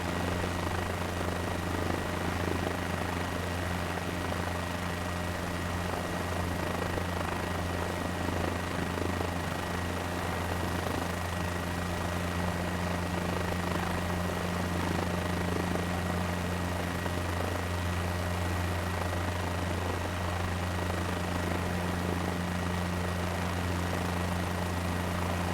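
A helicopter flying in Microsoft Flight Simulator, a steady droning rotor and engine hum with a constant low throb, even in level for the whole stretch, no speech.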